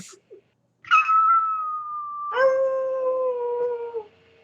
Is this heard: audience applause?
no